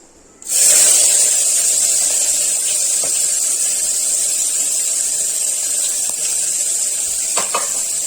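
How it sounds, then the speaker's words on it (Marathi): Two finely chopped onions drop into a hot pan for a rajma masala gravy and start sizzling at once, a loud steady hiss that goes on throughout with a few faint clinks. "आता मी त्याच्यामध्ये टाकणार आहे हे 2 बारीक चिरलेले कांदे,"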